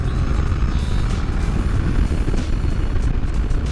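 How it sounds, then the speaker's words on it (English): A Kawasaki Ninja 650 motorcycle engine roars close by in a steady, loud, rumbling drone with no voices. "They twist that throttle and the bike takes off."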